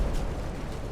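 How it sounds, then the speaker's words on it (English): Torpedo hits bursting against a warship in a naval strategy game, a brief muffled explosive rumble heard at moderate level, alone. "3 torpedo hits."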